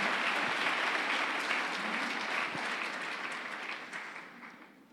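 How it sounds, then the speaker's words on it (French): A church congregation breaks into sustained applause at a sermon: dense, loud clapping from a large crowd that holds steady, then slowly thins and fades over a few seconds. "J'aimerais qu'on acclame très bien la parole du Seigneur."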